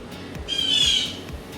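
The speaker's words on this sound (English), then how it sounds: "the birds, they're so loud" Loud bird squawking outdoors, one harsh drawn-out call rising and fading over about a second against a low background murmur.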